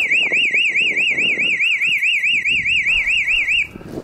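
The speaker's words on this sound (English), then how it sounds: "there's actually like a panic alarm. So all I have to do is go into the app and I can just set it off" Boundary home alarm system's panic alarm sounding loud and close: a continuous warbling electronic siren that sweeps rapidly up and down for about three and a half seconds, then cuts off, with faint background noise underneath.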